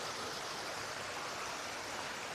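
A waterfall popular with bathers pours in a steady, dense rush of broadband water noise, constant and fairly faint throughout with no voices.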